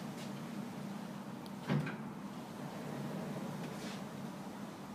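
A telescopic glass sliding door system with a nylon cable linking two panels rolls along its track as a low steady rumble, with a single soft thud partway through, close and fairly quiet.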